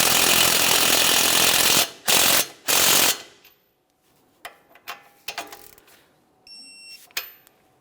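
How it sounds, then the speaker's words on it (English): A ratchet wrench clicks rapidly in bursts while tightening a tie rod mounting nut on a 2014-2018 Mazda 3, followed by scattered metallic clinks and taps of tools, close and without talk. "Now we'll tighten that mounting nut and torque it to 43 foot-pounds."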